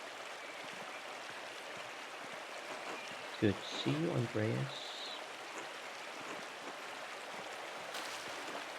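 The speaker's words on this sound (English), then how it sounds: "The waterfall must flow down from the snow melt in the mountains above the abbey." In the Pentiment game, a snowmelt-fed waterfall below the mountains near an abbey gives a steady soft rushing wash throughout, with a short spoken greeting over it midway.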